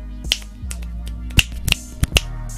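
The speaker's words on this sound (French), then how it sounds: "moi je sais claquer des doigts que" Finger snaps made with the left hand, sharp isolated clicks, about six irregularly spaced and close to the mic, with a low steady hum beneath and no speech.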